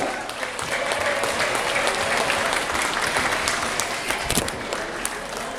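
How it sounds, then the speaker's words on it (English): A big round of applause rises from the audience at a champagne waterfall party aboard the Ruby Princess cruise ship, steady dense clapping that fills the whole stretch without letup. "I want you to hear a big round of applause"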